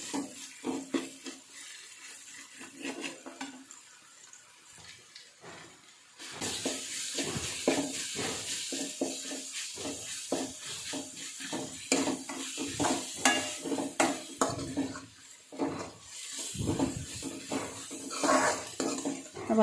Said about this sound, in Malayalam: അപ്പോൾ നമ്മുടെ ഉള്ളിയുടെ കൂട്ടത്തിൽ ആ ജിഞ്ചർ ഗാർലിക് പേസ്റ്റും കൂടെ നന്നായിട്ടൊന്ന് ഫ്രൈ ആയി വരണം